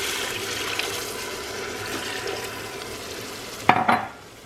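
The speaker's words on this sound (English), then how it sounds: "All right, so I drained the beef. I'm gonna add my beef broth." Beef broth is poured into drained 80-20 ground beef and vegetables in a pot. A steady close sizzle and hiss runs throughout, then a short burst of splashing liquid comes near the end before the sound drops away.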